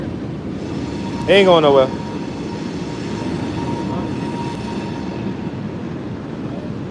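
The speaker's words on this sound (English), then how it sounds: "I'm sorry if y'all can't hear him, but you know, it's the train." A train rumbles past on an Atlanta street as a broad, steady low roar that fills the background. A horn-like tone sweeps briefly near the start, and someone speaks over the noise.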